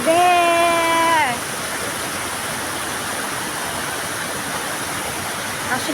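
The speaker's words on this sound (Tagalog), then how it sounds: "Next is the Digusit Falls." Digusit Falls, a roadside waterfall open to the public, gives a steady broadband rush that fills the whole clip. A brief tonal whine is heard at the start, and no one speaks.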